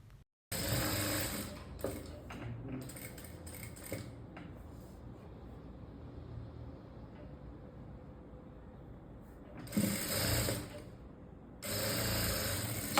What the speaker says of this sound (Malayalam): സ്ട്രെയിറ്റ് ആയിട്ട് ഒന്ന് സ്റ്റിച്ചിങ് ചെയ്ത് കൊടുക്കുക